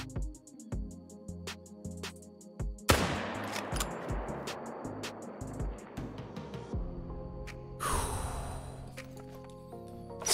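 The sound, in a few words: rifle shot at animal in theHunter video game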